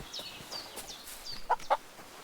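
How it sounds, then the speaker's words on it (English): A chicken in Kingdom Come Deliverance 2 gives a few soft, scattered clucks, ending in two sharper, louder clucks close by over a quiet outdoor background. "Chicken."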